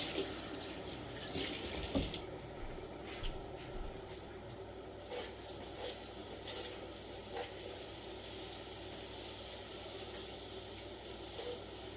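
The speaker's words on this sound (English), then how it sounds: "let me wash my hands real quick" Water runs steadily from a kitchen tap into a sink while hands are washed, a continuous close splashing rush with small knocks and shifts in the flow throughout, no talk.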